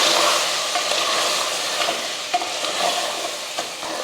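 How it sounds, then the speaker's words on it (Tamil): Masala being stirred into mutton curry frying in oil, a steady close sizzle and hiss with scraping stir strokes throughout, no talking. "மசால் போட்டு இதையும் கலந்துருவோம்"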